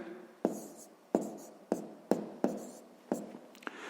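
A pen scratches out a sixth-grade maths solution on paper, a series of short, faint strokes coming every half second or so, close and quiet, with no talking.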